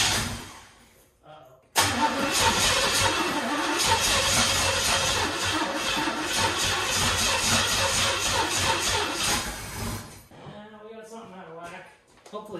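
A modified 350 Chevy V8 in a Monte Carlo cranks briefly, then catches and roars to life, running loud and rough near the listener for several seconds before cutting off, with a voice afterward.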